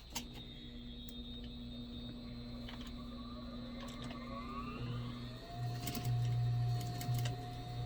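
A sewing machine runs at a steady hum while stitching a half-inch seam on a dress strap, with faint ticks and a brief louder whir near the end.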